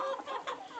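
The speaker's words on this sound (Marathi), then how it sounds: "इन्क्युबेटरद्वारे तयार केलेल्या गावरान कोंबड्या तुम्ही बघू शकता मित्रांनो." Desi free-range hens on a small poultry farm give a few soft, short clucks close by, faint and brief with no talking.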